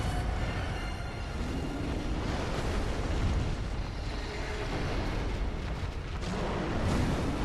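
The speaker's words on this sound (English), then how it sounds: "No, that's a big explosion." A big explosion in the video game Bloodborne, a loud sustained roar of dense rumbling noise filling the whole clip with no speech.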